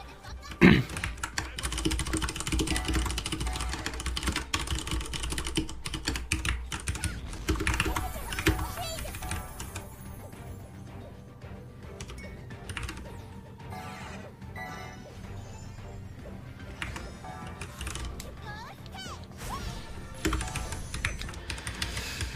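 Rapid clacking of mechanical keyboard keys, steady and close, with occasional louder smacks and Dungeon Fighter Online game sounds underneath, continuing throughout.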